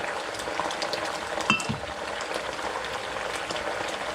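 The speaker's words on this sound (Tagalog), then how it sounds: "So, pakuluan muna natin." Fish broth with vegetables boiling steadily in a pot for pocherong isda, a continuous bubbling hiss at moderate level with a brief clink near the middle and no talking.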